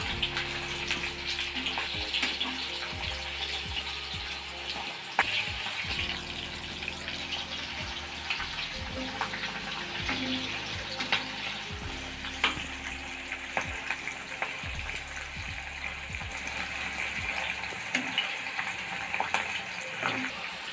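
Slit green chillies fry in hot oil in a pan, a dense, continuous crackling sizzle with occasional scrapes and knocks of stirring throughout, loud and close with no talk.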